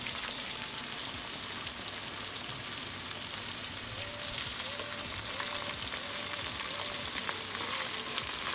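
Catfish nuggets deep fry in hot oil with a constant, dense sizzle and crackle. A faint repeated chirp sounds in the background partway through.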